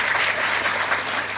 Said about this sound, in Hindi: तो मैं चाहूँगी कि एक बार ज़ोरदार तालियां पूरी मीम की टीम के लिए।